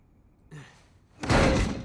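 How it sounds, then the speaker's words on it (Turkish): A door opens in the video game Uncharted 4, with a short clunk followed by a louder, heavy grinding swing. "Gel tatlım hadi açalım o kapıyı."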